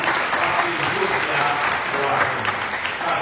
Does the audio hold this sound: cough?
no